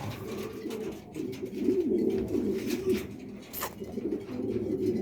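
Racing pigeons coo repeatedly in low, throaty murmurs, a soft rolling chorus close by, with a brief sharp chirp partway through.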